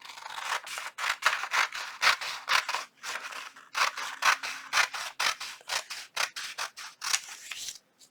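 Scissors snip through paper for a botanical tri-fold junk journal, a rapid run of crisp, close cuts in quick bursts with short pauses between them.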